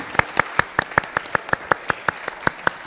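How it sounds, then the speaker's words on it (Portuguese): Crisp, evenly spaced handclaps at a relationship chat event, about five per second in a steady rhythm, close and distinct rather than a blended crowd roar. "Gente, uma salva de palmas para esse nosso casal."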